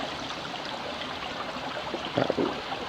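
Creek water flows steadily at a quartz-lined spot where a small creek meets a larger one, a soft continuous wash with a couple of brief splashy bursts near the end.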